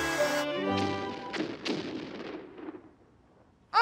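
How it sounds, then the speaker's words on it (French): Cannon fire from a pirate scene playing on television: a few dull booming thuds with decaying rumble, heard as layered mid-loud bursts over a low sustained tone that fades toward the end. "chaque fois que les pirates tirent un coup de canon"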